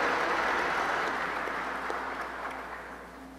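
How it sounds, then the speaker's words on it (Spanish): Sustained applause at a solemn closing session of Nicaragua's National Assembly, a broad hall-filling wash of clapping that slowly fades. "Un aplauso."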